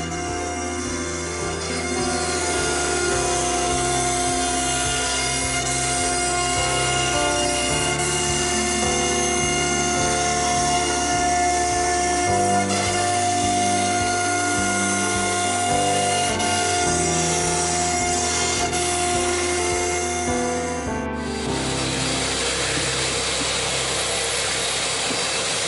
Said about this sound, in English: the last step here is cutting out the profile of each half of the arm